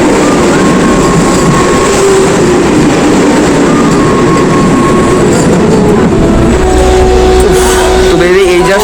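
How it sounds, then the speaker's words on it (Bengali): A Vande Bharat train rumbles past close by, with a steady loud roar and some metallic rail noise under a faint voice. "দেখো এই যে ট্রেনটা যাচ্ছে"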